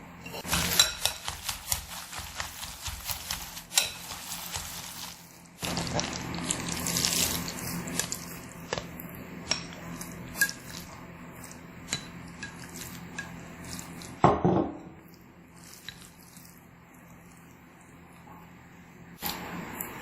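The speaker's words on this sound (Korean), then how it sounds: "잘 익은 면에 파 기름장을 얹어서 비벼줄게요" Cooked noodles being tossed with scallion oil sauce for Shanghai-style scallion oil noodles, with soft wet mixing and scattered clinks of utensils against a bowl, quiet and close, plus intermittent clatter and water-like rustling, with no talk.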